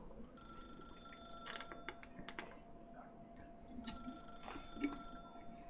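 A telephone rings in the video game The Stanley Parable, in two long electronic ringing bursts under keyboard typing and quiet voices, with a faint low hum throughout.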